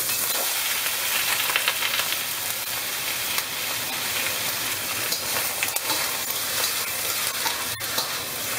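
Pork searing in smoking hot oil in a wok for braised pork with black beans, a dense, loud, continuous sizzle with stirring, steady from start to finish, no talk.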